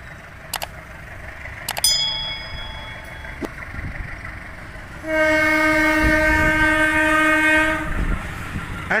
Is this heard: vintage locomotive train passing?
yes